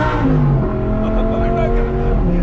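An Audi R8 supercar engine revs hard and climbs through a gear shift, loud and close from inside the cabin, with voices talking over it.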